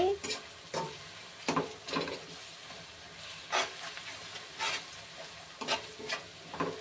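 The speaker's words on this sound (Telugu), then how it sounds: "ఆనియన్స్ బాగా వేగటంలోనే ఉంది మనకి కర్రీ టేస్ట్ అంతా అని. అలా ఫ్రై చేసుకోవాలి." Onions frying for a catering-style pesara punukulu curry, a soft sizzle punctuated by repeated rhythmic scrapes and clanks of a spoon stirring the pan every half second or so, close and without talk.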